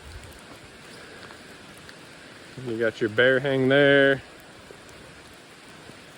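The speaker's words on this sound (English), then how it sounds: "Raining pretty good" Steady rain falls at a riverside backcountry campsite in the Smoky Mountains, a constant close hiss that continues under a short stretch of someone talking in the middle.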